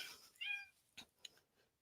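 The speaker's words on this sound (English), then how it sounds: "These damn cats." A cat gives one short, faint meow, followed by a couple of soft clicks and rustles in an otherwise quiet space.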